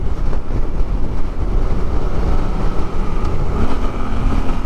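A 2024 Suzuki GSX-8R motorcycle cruises in fourth gear at 3,000 RPM. Its engine drones loud and steady close up, mixed with heavy wind roar and no voices.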